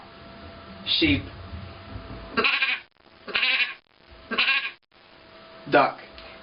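A human voice mimics a sheep's bleat in several short, wavering bursts separated by brief pauses, close and moderately loud.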